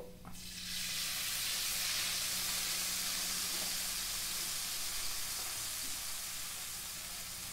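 Soy sauce poured into hot oil for tuna bistek, bursting into a loud sizzle after a brief quiet moment, then a steady close hiss and crackle of frying that carries on alone.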